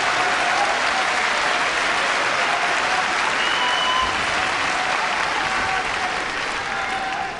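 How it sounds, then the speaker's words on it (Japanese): A large arena crowd at the final day of the Kyushu Grand Sumo Tournament claps in steady, sustained applause that stays loud throughout before easing slightly at the end. "大きな拍手をこうやってもらいました。"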